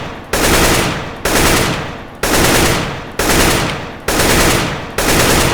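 Rifle fire in the CS:GO game: five loud automatic bursts, each a dense rattle of about a second with brief gaps between, close and harsh, with no speech.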